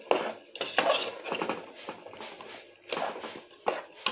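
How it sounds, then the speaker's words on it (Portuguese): Scraping and clinking of a utensil stirring chicken soup with tomato sauce in a pot, irregular strokes with short pauses, close by and moderately loud. "Dá mais uma misturada."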